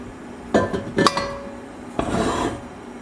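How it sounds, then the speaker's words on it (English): Metal pots shifted around on a kitchen stove while cooking onions in oil, with two clusters of clanks and scraping clinks, close and fairly loud, and no talking. "Move some of my pots around."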